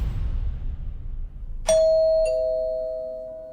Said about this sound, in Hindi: डोरबेल सुनकर शुजाता ने बाहर जाके दरवाजा खोला।